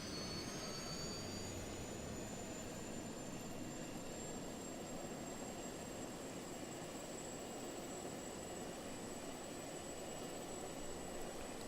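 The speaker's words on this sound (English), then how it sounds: "So we take off from here, another Pell Silverbolt." A Pell Silverbolt jet in Just Cause 2 takes off, its engine giving a steady, broad roar with a high whine held throughout, no voices over it.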